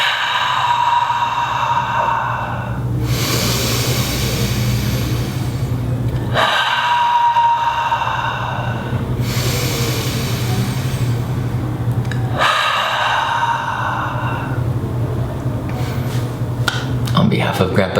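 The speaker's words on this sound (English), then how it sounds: "Let's take 3 breaths in through the nose." Three long, deep breaths drawn in through the nose during a guided HugNation meditation, each a broad airy swell over a steady low hum, evenly spaced and close.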